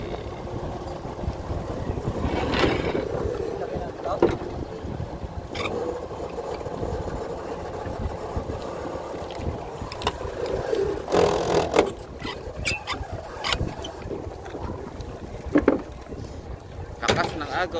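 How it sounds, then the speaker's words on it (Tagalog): Large boat moving on water, a continuous low rumble with wind buffeting the microphone and scattered splashes and knocks, fairly close and steady throughout without talk. "Barkong malaki."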